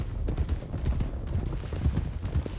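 A horse gallops in Red Dead RP with rapid, rhythmic hoofbeats, a steady loud clatter over muffled background game noise.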